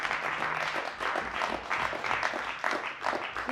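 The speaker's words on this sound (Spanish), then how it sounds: "¿Por qué no le das un fuerte aplauso al Señor?" Church congregation giving the Lord a loud round of applause at the close of a Sunday service, dense sustained clapping with rhythmic swells throughout, filling the room with no talk over it.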